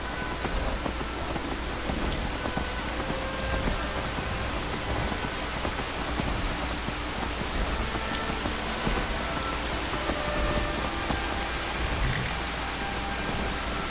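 Steady rain falling in the video game Skyrim (Elder Scrolls V), a dense unbroken hiss of drops pattering on surfaces, loud and constant throughout.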